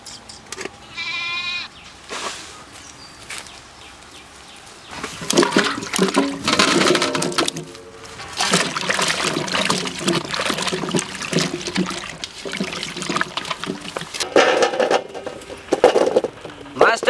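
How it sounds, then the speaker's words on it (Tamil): Ginger being broken apart and rinsed in water outdoors in a village kitchen, with splashing and trickling bursts in irregular pulses, close and moderately loud, plus brief faint voices in the background. "இஞ்சி அலசும்போது இந்த மாதிரி புட்டு அலசணும் இந்த மாதிரி உடச்சி அலசணும்"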